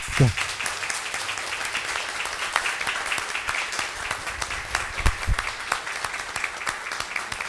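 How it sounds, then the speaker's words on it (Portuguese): Steady applause from a room of people at a city council session, sustained clapping with a faint voice underneath, neither building nor fading much. "eu queria pedir que os vereadores dessem uma salva de palmas"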